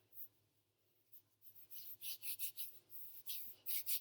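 Hands rubbing flour off while kneading pasta dough, a series of soft dry rasping strokes growing steadier and closer over a low background hum.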